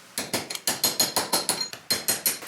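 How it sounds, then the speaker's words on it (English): Steel tapping tool repeatedly struck against the rear brake cable of a BMW E90 318d to drive it out, about a dozen sharp metallic taps in a steady, fairly quick rhythm, close and clear with no talk. "And now for the brake cable, you just have to tap it outside and it will go out."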